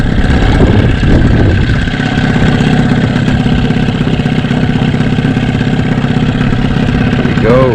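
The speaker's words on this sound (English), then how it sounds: "Slow down the motor." Outboard motor on a fishing boat during a November trout outing, a loud, steady close-up drone throughout.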